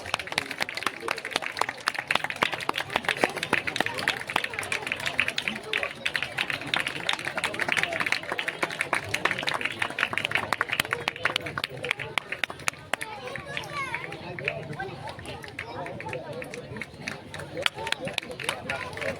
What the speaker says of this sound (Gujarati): જોરદાર તાળીઓના ગુંજથી આપણે દાદાનું સન્માન કરીશું.